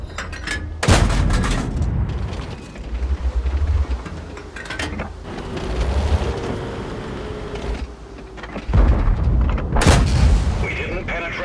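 Tank cannons boom in a tank battle video game, several heavy blasts spaced seconds apart among rumbling engine and combat noise, with game voice announcements over the action.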